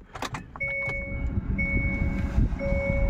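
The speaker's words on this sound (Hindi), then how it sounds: "यहाँ पे आपको पुश बटन स्टार्ट नहीं मिलता है, आप नॉर्मली आप की से ये स्टार्ट करेंगे गाड़ी को।" A key turns in a 2024 Hyundai Exter S-AMT: a few quick clicks, then a low idle rumble with steady electronic chime tones ringing over it, close and fairly quiet.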